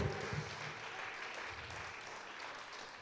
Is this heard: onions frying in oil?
no